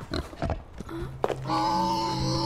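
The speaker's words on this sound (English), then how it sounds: "Oh, there it is. It's a pig." A pig-like creature on an alien planet in a video game gives a few short grunts and oinks at close range, followed by a sustained tonal game sound.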